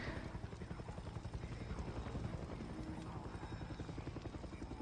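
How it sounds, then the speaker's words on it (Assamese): In the video game Far Cry 6, a helicopter approaches with a steady, pulsing rotor chop and low engine drone, quiet but continuous throughout. "হেলিকপ্টাৰ এখন আহিছে হাঁ"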